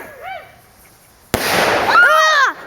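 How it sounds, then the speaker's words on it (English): A cherry bomb firework goes off with a sudden sharp, loud bang partway through, followed by sustained crackle and hiss, while excited voices shout and exclaim before and after the blast. "Cherry bomb."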